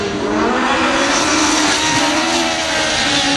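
An autocross race car drives hard past, its engine a loud, continuous, broadband roar that holds steady from start to finish, with no voices.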